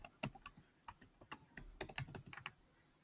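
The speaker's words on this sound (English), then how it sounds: "So I'm going to go ahead and type this one in right here." Quiet typing on a computer keyboard, a short run of light irregular key clicks heard up close with no voice over them.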